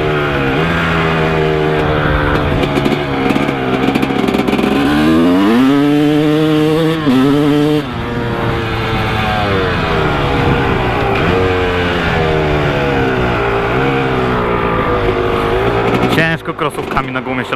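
A Honda CR250 two-stroke dirt bike engine revs hard and close, climbing and dropping through the gears with buzzing, rising whines and brief throttle drops, while someone talks over it.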